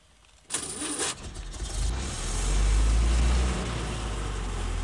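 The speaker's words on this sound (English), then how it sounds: "Listen to that marvelous engine." A 1975-era vintage car engine cranks with a starter whir, then catches and settles into a loud, deep rumbling idle close by.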